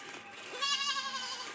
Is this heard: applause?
no